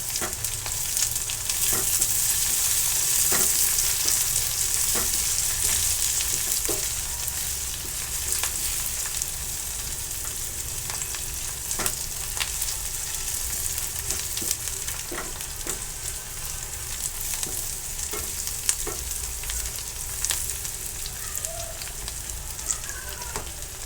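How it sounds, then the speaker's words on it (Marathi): Coriander leaves sizzle steadily in a hot oil and garlic tempering for a broccoli stir-fry, a continuous close frying hiss with scattered crackles and occasional stirring clicks throughout, no voices. "आता मी ते फोडणीमध्ये थोडीशी कोथिंबीर टाकणार आहे"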